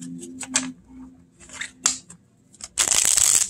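Mini oracle cards shuffled by hand, a few crisp snapping riffles and taps followed by a loud continuous rustling cascade of cards close by, no talk.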